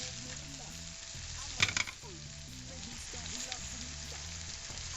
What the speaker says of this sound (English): Now I'm going to fry these potatoes for about 3 or 4 minutes